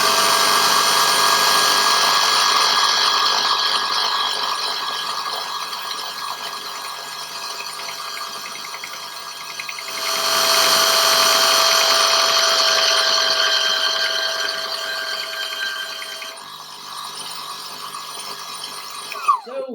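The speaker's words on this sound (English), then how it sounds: "the Proxxon mini belt sander" A Proxxon mini belt sander runs steadily with a bright, high-pitched whine and a constant grinding hiss, rising in loudness midway and staying close, with no talk over it.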